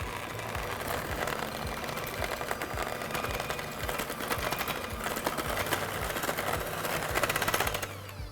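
Electric mixer creaming butter and sugar in a bowl, a steady whirring motor hum with rapid rattling texture running continuously at moderate volume.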